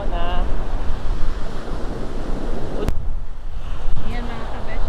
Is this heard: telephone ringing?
no